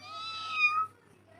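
A voice imitates a cat's meow, giving one drawn-out, rising-then-falling call lasting about a second, fairly close, followed by quiet room sound.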